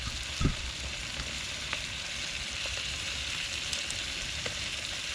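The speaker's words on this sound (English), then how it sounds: "It's smelling good and sizzling good." Chilli chicken sizzles steadily in a pan on a Trangia 27 series camping stove, a constant crackling hiss with an occasional light knock of a utensil.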